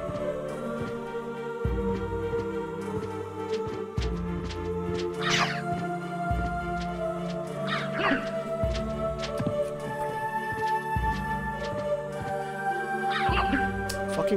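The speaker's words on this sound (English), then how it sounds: "Fucking crow." A crow caws several times in Castlevania: Symphony of the Night, short rough calls repeating at intervals over calm game music, moderately quiet.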